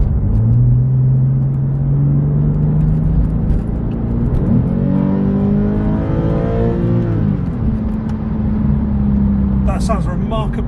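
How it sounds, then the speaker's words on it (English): A Porsche 996 with an aftermarket valved exhaust, heard from inside the cabin, revs up in long rising and falling sweeps over a deep droning rumble, with brief talk at the end. "let's give it a bit of revs"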